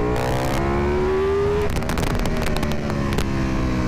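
A Ducati Panigale V4R sport motorcycle engine revs hard near its rev limit on a racetrack, a loud, continuous high-pitched wail with a rising pitch sweep, then rapid shifts and crackling as the revs change.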